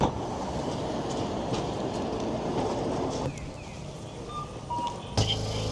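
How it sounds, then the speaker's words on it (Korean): An old streetcar tram rolls along a street in Kumamoto, Japan, with a loud, steady rumble and rattle close by that eases off, then a clunk near the end. "뭔가 100년 넘게 달렸을 것 같은 느낌의 노면 전철"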